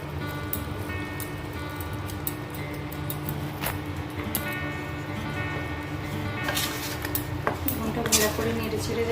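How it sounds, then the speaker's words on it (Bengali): A spoon stirring salt into mango pickle cooking in a pot, steady scraping and clinking over a constant simmering hiss, with light metallic ticks throughout. "লবণটা ভালো করে নেড়ে ছেড়ে দেবো।"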